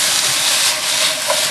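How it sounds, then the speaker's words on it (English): Mushrooms, carrots and other vegetables sizzle loudly in a hot wok for almond chicken stir fry, a constant bright crackling hiss heard close up. "You always want the wok to sound sizzling, okay?"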